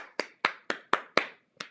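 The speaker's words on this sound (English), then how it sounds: "clap, tap, tap" Six sharp hand claps and taps in an even, unhurried rhythm during a guided morning meditation, each crisp strike close and distinct with quiet gaps between.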